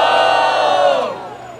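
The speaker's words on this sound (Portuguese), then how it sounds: "Quem acha que Samuca merece estar na semifinal, faz barulho!" Crowd at a Brazilian freestyle rap battle roaring with cheers and shouts, a loud sustained wall of voices that swells and then begins to fade toward the end.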